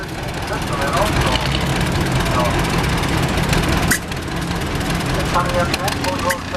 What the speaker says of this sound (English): Andy's tractor is equipped with a dual fuel engine with inverted kerosene system